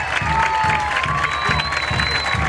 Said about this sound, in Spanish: Los aplausos para Genastasio.